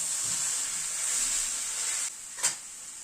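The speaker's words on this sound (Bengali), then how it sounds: "সেই জন্য গাজরটাকে ভালো করে ঘিতে ভাজা দরকার" Steady sizzling of food frying in hot fat, a bright continuous hiss that dips briefly near the end, with a short clink of stirring.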